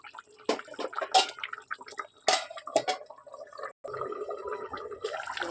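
Duck egg curry with chilli and mankochu simmers in a pot, thick bubbles popping and gurgling in an uneven rhythm with small wet blips and drips, close and fairly quiet, a brief gap near the end.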